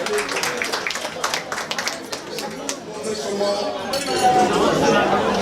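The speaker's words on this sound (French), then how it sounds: "Applaudissez pour le couple, s'il vous plaît" Guests at Armelle and Thierry's wedding reception clap for the couple in a scattered round of applause that fades after a few seconds. Glasses clink and people chatter nearby, and the room hubbub swells at the end.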